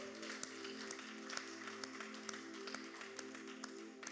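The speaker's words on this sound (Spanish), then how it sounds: "Vamos a darles un aplauso." Faint, scattered clapping from a small church congregation, with sharp individual claps popping out over a steady background hum.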